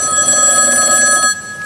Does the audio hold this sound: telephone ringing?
yes